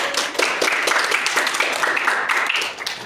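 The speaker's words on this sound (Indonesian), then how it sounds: "Tepuk tangan untuk Yana" A micro-teaching class applauds a student named Yana, close, fairly loud clapping from a small group in a room, bursting in uneven waves before tapering slightly at the end.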